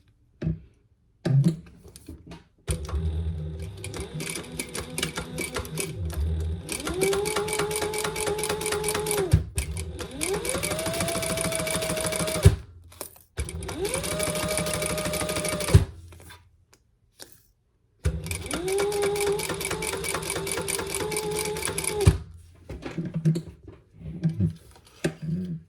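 A sewing machine stitches around a crossbody bag in several sustained runs, a steady loud mechanical whir with rapid needle ticking, broken by short pauses and handling noises between passes; no one talks.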